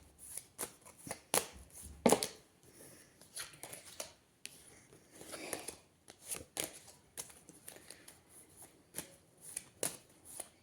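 Tarot cards shuffled by hand in a quiet room, a series of soft riffling flicks and taps in irregular bursts, close and fairly faint.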